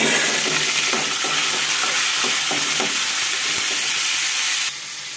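Green chillies, curry leaves and coriander dropped into hot oil tempering with fried mustard seeds and lentils, a loud steady sizzle with stirring scrapes, easing off sharply near the end.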